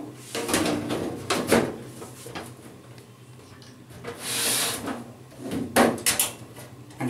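Close-up scraping and rubbing of a desktop computer case side panel sliding along its frame, broken by a few hollow knocks and clunks as it settles into place.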